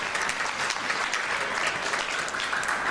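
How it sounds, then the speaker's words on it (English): An audience claps steadily for an essay contest winner at a youth leadership event, a continuous even patter at moderate volume with no talking. "Let's give a round of applause again."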